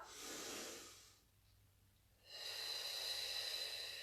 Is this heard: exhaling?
yes